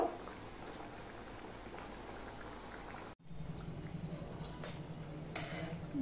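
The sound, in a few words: sweet pastry deep frying in oil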